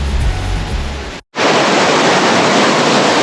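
Steady, broadband roar of the Iguazu waterfalls in Argentina, loud and continuous, broken by a brief cut of near-silence before the rushing wash resumes.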